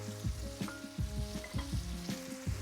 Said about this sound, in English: We're just going to fry these down.